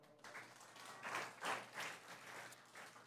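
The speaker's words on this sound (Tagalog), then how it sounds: "Palakpak naman kay Lord." Audience applause at a church gathering, a burst of clapping from many hands that swells in a few waves over about three seconds, moderately loud with no talk over it.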